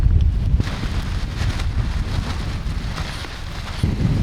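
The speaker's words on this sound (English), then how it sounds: "Windy!" Strong wind on the Sardinian coast in Italy buffets the microphone in a constant heavy roar, with low gusty rumbles and faint splashing water in the background.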